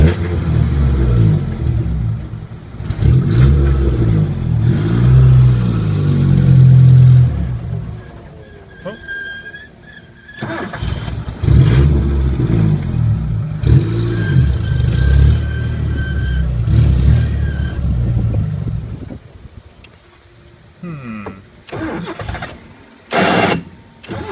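A 1980 Chevy Luv pickup truck engine idles close by, its rumble rising and falling as the idle shifts, idling too low once the choke kicks off, with brief pauses and mechanical clicks.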